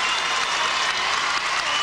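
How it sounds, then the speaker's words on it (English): A gymnastics crowd in Portland rises in a standing ovation at a professional championship, dense, steady applause filling the arena without a break. "she gets a standing ovation from the crowd here in Portland"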